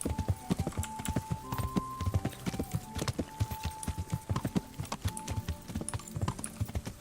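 Horse hooves clip-clop steadily in a video game, a continuous brisk rhythm of hoof strikes close and clear over faint ambient tones.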